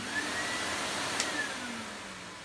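A Miele U1 Automatic vacuum cleaner motor runs steadily, a continuous broadband whirring drone held at an even level throughout with no talk.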